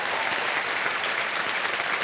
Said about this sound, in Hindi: एक बार जोरदार तालियां बज जाए उनके लिए।